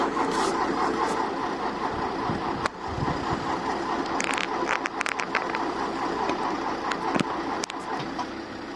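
A 35-year-old Ford Fiesta MK2 engine cranks and turns over as it tries to start, a steady churning drone running through the whole stretch with brief uneven catches.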